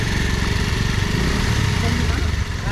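A motorcycle engine runs steadily just after being started on a village road in Nepal, a close, loud, continuous rumble with voices over it.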